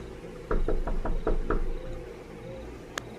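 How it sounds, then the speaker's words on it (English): Six quick knocks on a door in a steady rhythm, close and fairly loud, followed by quiet with one faint click near the end. "I knocked one more time out of desperation"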